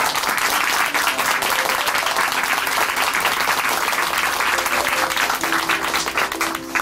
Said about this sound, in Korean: 함께 박수로 응원해드리겠습니다